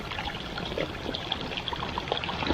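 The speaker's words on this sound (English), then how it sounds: "I'm filtering myself some water." Water is filtered outdoors on a mountain hike in April, giving a steady, close trickling and rushing wash of water that holds an even level throughout with no voices.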